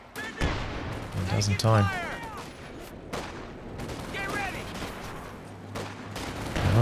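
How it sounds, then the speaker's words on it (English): Gunfire from a machine gun behind sandbags sounds in a Company of Heroes 2 battle, with sharp shots and volleys spaced through the clip under steady commentary. "Machine gun behind sandbags."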